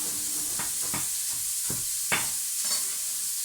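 Onions softening in a pan for plant-based Mexican beans: a soft, steady sizzle under several scraping stirs of a utensil against the pan, close and quiet.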